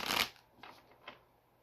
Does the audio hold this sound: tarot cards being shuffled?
yes